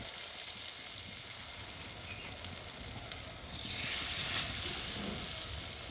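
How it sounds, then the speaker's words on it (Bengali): Taro leaf fritters, shaped round, frying in hot oil, a continuous dense sizzle that swells louder for a moment midway and then settles, with no voices. "এখন আমি এগুলো তেলের মধ্যে ছেঁকে দিচ্ছি।"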